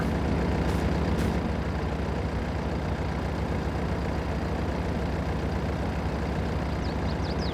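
Tractor engine in Farming Simulator 22 running at a steady, loud, continuous drone with a deep rumble, a couple of brief clicks near the start.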